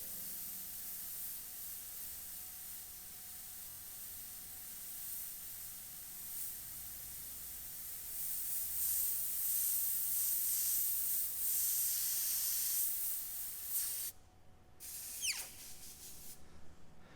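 Airbrush spraying black paint onto a skull through an AirShot template, a steady close hiss that swells louder midway and then drops away briefly near the end.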